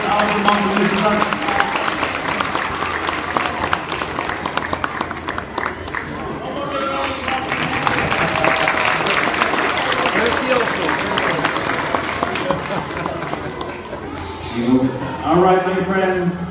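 School assembly audience of young children applauds an award winner, a steady wash of clapping mixed with crowd chatter and children's voices, with an adult voice speaking near the end.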